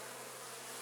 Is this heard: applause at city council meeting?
no